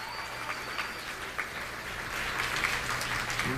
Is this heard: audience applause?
yes